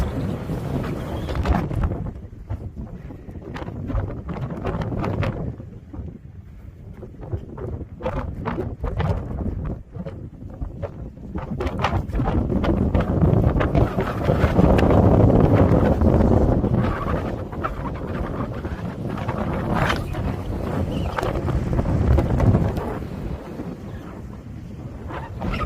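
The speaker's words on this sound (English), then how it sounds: "Oh, quite windy up there." Strong wind buffets the microphone outdoors at the top of Clavell Tower in Dorset, a roaring, gusting rumble that swells and fades continuously throughout, loud and close.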